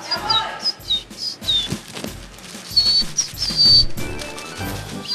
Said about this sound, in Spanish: ¡Ay, el pajarito se mueve en la bolsa!